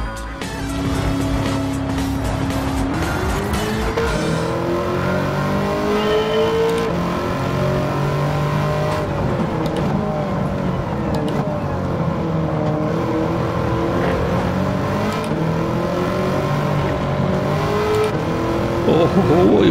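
A 2009 Corvette C6 ZR1 races around Watkins Glen Circuit in Gran Turismo 7, its engine droning and shifting pitch as it accelerates and lifts through corners. The engine runs loud and continuous for the whole stretch.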